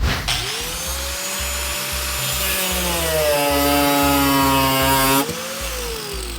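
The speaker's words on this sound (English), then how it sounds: "I'm going to start off with the grinding wheel method." A grinding wheel cutting into an old steel file being shaped into a knife, with a loud continuous grinding whine that rises and dips in pitch as the metal is pressed against the wheel.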